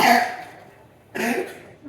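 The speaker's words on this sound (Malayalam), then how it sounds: "ഇച്ചിരി ചുമയൊക്കെ തുടങ്ങിയിട്ടുണ്ട്" Two close, sharp coughs separated by a short pause.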